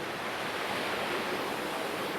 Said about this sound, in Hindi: तो यहाँ से खेतों को पानी देने के लिए बीआरबी नहर से पानी जो है ये देखें